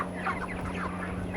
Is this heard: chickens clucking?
yes